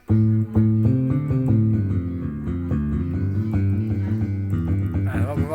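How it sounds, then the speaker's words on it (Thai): Jazz bass tone on a Roland EA7 keyboard playing a run of low notes, with a voice talking over the playing near the end. "ส่วนมากก็จะแจ๊ดเบสนะฮะ"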